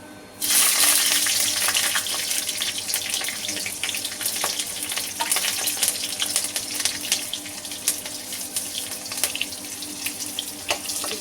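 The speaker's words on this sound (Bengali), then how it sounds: "কালো জিরে আমি ফোড়নে দিয়ে দিলাম। 3টে চেরা কাঁচা লঙ্কা দিয়ে দিলাম।" Nigella seeds and three slit green chillies fry in hot oil as a tempering, giving a loud, steady, hissing sizzle that rushes like running water, close by and unbroken, with faint scattered crackles and no voices.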